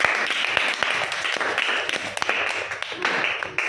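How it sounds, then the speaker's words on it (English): A class of fifth-grade pupils clapping together in a classroom during a bilingual maths activity, a steady patter of many hands kept up for several seconds at moderate loudness, with no talking over it. "Claps to Meta."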